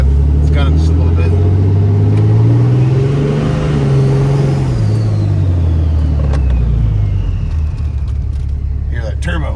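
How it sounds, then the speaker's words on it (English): A Cummins 6.7 diesel truck engine rumbles loudly and rises in pitch as it revs, with the turbo whine climbing and then easing back, and a voice talks over it. "Hear that turbo?"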